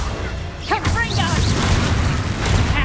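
A Confringo blasting spell in Hogwarts Legacy bursts with a booming, crackling explosion and whooshing magical effects, layered under loud voices and continuous game noise.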